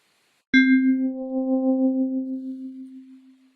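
A synthesizer oscillator sounds an OP4 FM waveform: one sudden metallic, bell-like tone with bright overtones that fade quickly, leaving a steady pure pitch that slowly dies away over about three seconds.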